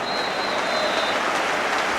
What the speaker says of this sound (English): The applause is for Jermaine Wright